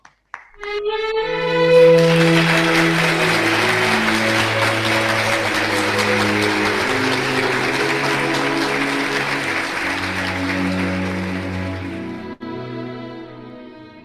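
An audience breaks into sustained applause welcoming Koji Matsuda on stage at a Synergy Africa event, a steady wash of clapping over a held musical chord, lasting about fourteen seconds before cutting off abruptly.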